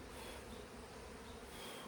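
Honeybees swarming around an opened hive during an artificial swarm split, a faint, steady, dense buzzing hum with no breaks and no voices.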